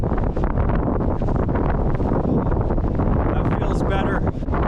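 Strong, freezing winter wind in the mountains buffets the microphone with a loud, continuous roar and rumble, gusting throughout the clip at close range.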